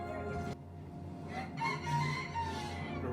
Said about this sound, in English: Okay, that's a rooster.